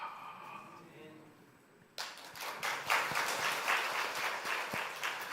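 A church congregation claps during a sermon; dense, sustained applause bursts in suddenly partway through, following a quieter stretch with a voice speaking.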